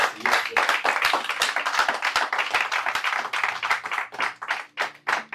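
Church congregation at a Paris worship service clapping hands in a steady, dense rhythm, loud and close, with faint voices mixed into the applause throughout.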